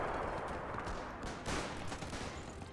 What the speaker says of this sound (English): we can hear the machine guns